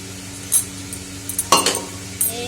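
A knife peeling a potato gives a few short, sharp scraping clicks and metallic clinks, close and sparse, over a quiet kitchen background.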